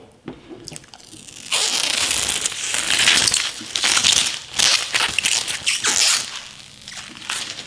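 Protective film peeled away from a fresh arctic camo vinyl wrap on a Ford F-150 pickup, a close, continuous crackling rip rising in bursts over several seconds, with no talking.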